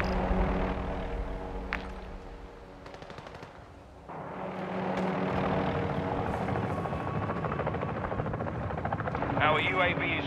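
Helicopters passing overhead in the game Call of Duty: Modern Warfare 2, a continuous rotor drone mixed with bursts of gunfire and battle effects, with a voice talking over it partway through.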